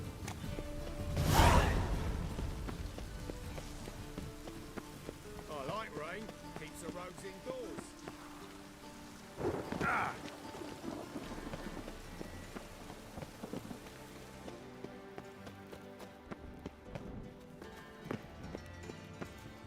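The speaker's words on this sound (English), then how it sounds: "I like rain." Rain falls steadily in The Witcher 3 Wild Hunt, a soft continuous patter. Two deep rumbles, one strong and one weaker, suggest thunder, while faint game music plays underneath.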